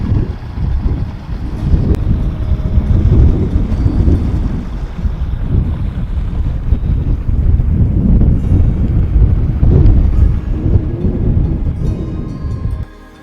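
Strong wind blows across a mountaintop on the Isle of Skye in Scotland, a loud, continuous roaring gust buffeting the microphone from start to finish with no voices.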